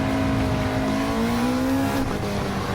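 Engine of a Honda Civic Type R FL5 on a race track in third gear, a steady droning note rising slightly under modulated throttle with a faint tyre hiss, continuous and fairly distant from inside.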